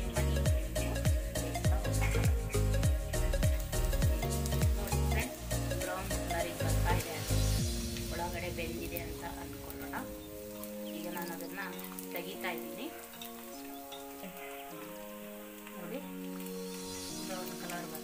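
Leftover upma bondas frying in hot oil, a loud steady sizzle and bubbling that eases to a quieter crackle partway through, with a voice talking over it.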